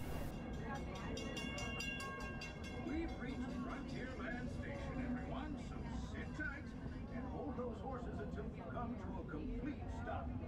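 A Magic Kingdom park railroad train runs on the mile-and-a-half track circling the park, heard as a steady rumbling ride with crowd chatter and voices throughout.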